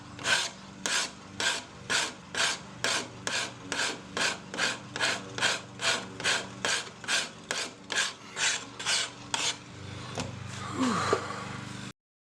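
A hand file rasps back and forth on steel knife bevels in about twenty steady, evenly spaced strokes, close and crisp, ending with a few scraping clanks as the work is shifted.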